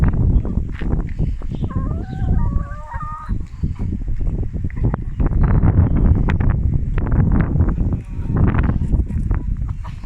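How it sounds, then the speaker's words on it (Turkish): Chickens in a morning coop, forty brown hens and a white rooster, cluck and squawk close by, with low voices talking and some wind rumble on the microphone throughout. "Tam 40 tane kahverengi var arkadaşlar. Bir tane de beyaz horozumuz"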